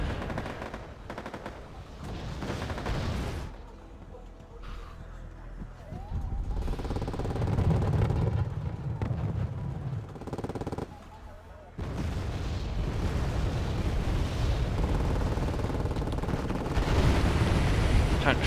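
Mortar barrage explosions and gunfire from the video game Wargame Airland Battle rumble in repeated heavy bursts with a dense crackling texture, loud and continuous across the stretch with brief quieter gaps.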